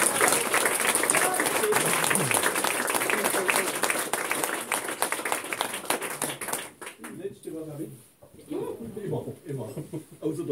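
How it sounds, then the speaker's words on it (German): Audience at a cabaret show in Cafe Bricklebrit clapping hard in dense, sustained applause that thins into scattered claps and cheers as voices begin to talk over it. "könnt euch selber applaudieren"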